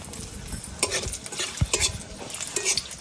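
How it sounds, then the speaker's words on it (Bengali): Bay leaves, cinnamon, cardamom and split dried chillies hit hot oil in a pan for village-style chicken, giving a close sizzle with scraping stirs and light clinks of a utensil. "তেলটা এখানে গরম হয়ে গেছে। এখানে আমি দেব দুটো তেজপাতা, দারচিনি 2 টুকরো, 4টে এলাচ আর শুকনো লঙ্কা 2টো চিড়ে দিয়ে দিচ্ছি।"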